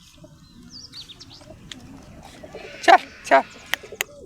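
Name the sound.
pigeons cooing near a nest box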